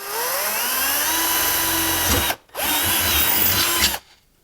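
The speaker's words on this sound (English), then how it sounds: "Oh yeah, I can drill through there." A power drill whines at high speed as it bores through metal for a homemade used-oil burner, cutting off briefly partway through and then starting again before stopping, with no talking over it.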